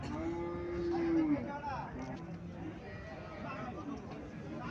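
A dairy cow gives a long, clear moo at the Chandimura cattle market in Cumilla, followed by fainter lowing amid steady crowd chatter and nearby voices.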